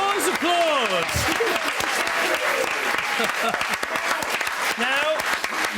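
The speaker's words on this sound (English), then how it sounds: "Applause, applause." A television studio audience applauds steadily for several seconds, and a voice speaks over the dense, continuous clapping.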